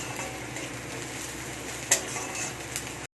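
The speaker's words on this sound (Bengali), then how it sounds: "পালং শাকটা দিয়ে দিচ্ছি এবার" Spinach fries in a pan with soft, steady sizzling, with a few clinks and a brief scrape around the middle.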